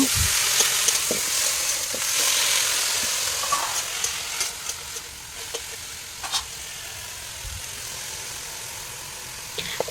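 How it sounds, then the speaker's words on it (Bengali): Vegetables sizzle in mustard oil with garlic and onion, giving a steady frying hiss with frequent stirring scrapes and spatula clicks close to the pan. "সবজি রান্না করার জন্য সর্ষের তেল দিয়েছি রসুন দিয়েছি পেঁয়াজ দিয়ে ভালো করে ভাজা ভাজা ভাজা করে নেব"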